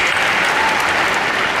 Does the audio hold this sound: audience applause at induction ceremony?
yes